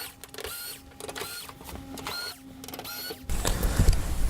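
A powered screwdriver backing out the screws that hold an electric heater's side panel, four short rising whirring bursts in a row, close up, followed by a rougher handling clatter.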